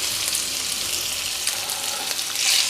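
Eggs or omelette ingredients sautéing gently in a pan over a low flame, giving a steady, close hiss of frying with a slight swell toward the end and no voices.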